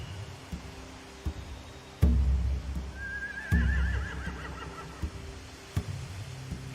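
Horses whinny in The Walking Dead video game, a drawn-out neigh rising and fluttering over a low ambient rumble, with scattered thuds and clip-clop-like knocks around it at moderate distance.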